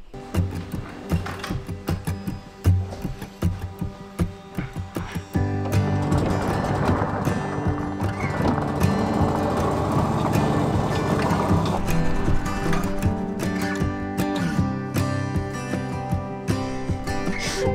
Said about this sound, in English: driving around in the buggy, getting lost in the middle of a safari park